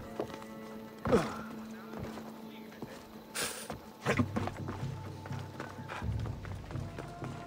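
Horse hooves clip-clop in the game Assassin's Creed Odyssey, a rhythmic run of thuds over a steady game-world background, with a louder impact near the start and denser footfalls later.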